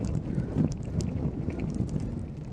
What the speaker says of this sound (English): usually the wind will come in from the sea in this way